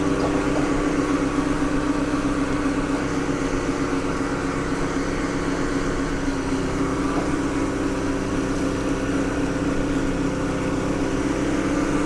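A gutter vacuum machine runs continuously at a steady pitch with a constant motor hum and airy whine, cleaning gutters about seven metres up from the ground.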